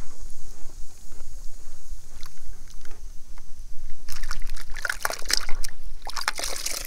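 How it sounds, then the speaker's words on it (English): White laundry is rinsed by hand in a tub of rinse water after scrubbing on a washboard. Soft, continuous sloshing and dribbling build to louder splashing near the end, with no talk. "Now I'm going to rinse that in here, just like that."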